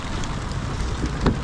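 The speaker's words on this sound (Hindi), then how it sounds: "सिर्फ ये जगह बरस रही है।" Rain falling in Madinah, a dense, even hiss of drops on surfaces with soft patters and a steady wash of noise, continuous and fairly close.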